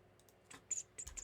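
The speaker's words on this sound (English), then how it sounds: "How's that typing sound for you," Quiet, close computer keyboard typing, a short run of light irregular key clicks with a few sharper taps over just over a second.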